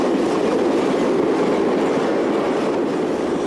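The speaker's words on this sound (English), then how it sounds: "this southbound trainload of hoppers near Villafranca" A southbound Portuguese CP freight train of loaded cement hopper wagons rolls past near Villafranca, a steady, loud, close rumble with clattering wheels on the rails throughout, no voices.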